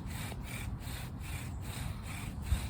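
A wooden bow drill spindle rubs steadily back and forth against a wooden hearth board, a rhythmic rasping, sawing friction with regular strokes, close and alone.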